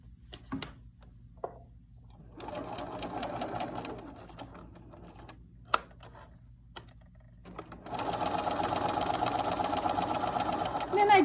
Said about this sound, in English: now I'm going to sew